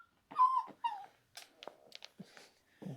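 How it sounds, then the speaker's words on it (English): A puppy makes several short whimpering and yipping sounds close by, high and whiny, with brief pauses between them. "There's a puppy who wants to join the conversation."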